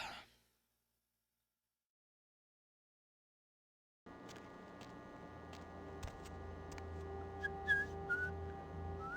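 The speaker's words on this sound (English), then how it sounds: "Oh, can you not whistle inside," Indoors in the video game Vampire: The Masquerade – Bloodlines, a character whistles a thin, wavering tune over a low ambient hum. It begins after about four seconds of near silence and stays faint.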